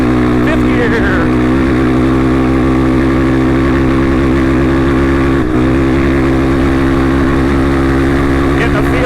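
A dirt bike runs at top speed in fifth gear over sand whoops on a hot desert training ride, its loud engine droning and chattering steadily up close, with wind buffeting the rider.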